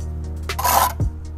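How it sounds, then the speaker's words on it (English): A bricklaying trowel scrapes excess mortar off a freshly laid brick in one short, close rasping stroke, then a brief dull knock follows. "and then scrape away"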